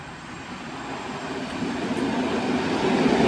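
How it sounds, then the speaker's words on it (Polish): EN57AKM electric multiple unit trains on line S1 toward Gdańsk Śródmieście pass by as a broad, steady rumble that grows louder over a few seconds as the trains approach. No voices are heard. "S1 do Gdańska Śródmieście, EN57 AKM 1718 Opolanka i EN57 AKM 880"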